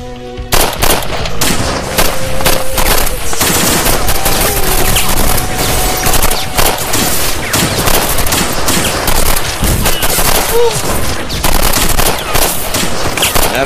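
Heavy machine gun fire crackles through a battle scene in a Turkish military TV drama, with dense, continuous bursts of overlapping shots and booming volleys that keep up loudly for over thirteen seconds.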